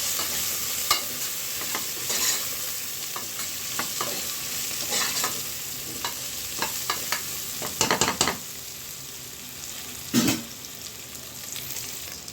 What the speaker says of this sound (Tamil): நான் ஒரு முருங்கைக்காய் எடுத்திருக்கேன். இதையும் நல்லா வதக்கிடலாம்.